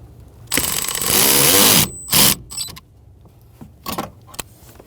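A power tool drives a bolt into the HVAC blower motor assembly of a 2000-2007 Ford Taurus: a loud whirring run of over a second, then a few shorter bursts and light metallic clinks, close by.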